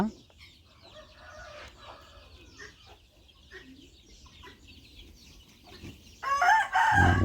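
Chickens cluck softly nearby while a rooster's crow bursts out loudly near the end, with faint talk in the background.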